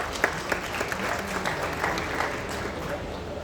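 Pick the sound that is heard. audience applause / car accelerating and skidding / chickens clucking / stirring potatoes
audience applause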